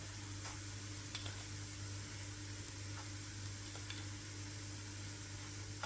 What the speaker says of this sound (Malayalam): ചേർത്തിട്ട് നന്നായി ഒന്ന് മിക്സ് ചെയ്ത് കൊടുക്കുക